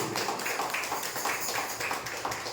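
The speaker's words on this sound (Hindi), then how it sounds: "एक जोरदार ताली यीशु मसीह के लिए।" A church congregation at a Resurrection Sunday service claps in a dense, continuous burst of applause, loud and close, with no talk over it.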